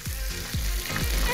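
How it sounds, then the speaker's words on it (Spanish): Pork for honey-glazed pork sizzles steadily in a frying pan, a loud continuous close crackle with no talk. "esto lo vamos a dejar aquí, que se siga friendo"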